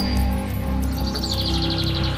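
A cartoon sparrow chirps in rapid, bright repeated notes over a dense, loud animated soundtrack with music and effects underneath.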